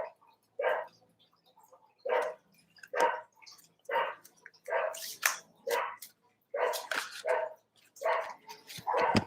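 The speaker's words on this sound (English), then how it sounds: "Sorry about the dog. It's not my dog, it's my neighbor's dog." A neighbour's dog barks repeatedly in loud, evenly spaced bursts, some with a whimpering edge, carrying on steadily without talk.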